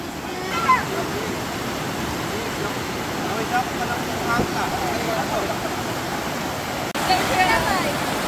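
Strong rushing current at Talon ni Eva Falls in Bulacan, a continuous broadband roar of fast water heard close during a trail run, with people talking over it.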